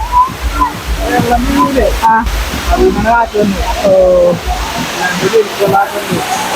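A steady roar of rushing water from the world's largest man-made waterfall in Ernakulam, continuous and broad, running beneath people talking close by throughout.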